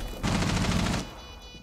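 A short automatic burst in Rainbow Six Siege, shots fired through a bathroom wall as rapid, evenly spaced cracks lasting under a second, loud and close, then quickly fading.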